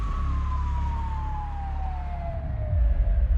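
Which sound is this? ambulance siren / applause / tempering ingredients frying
ambulance siren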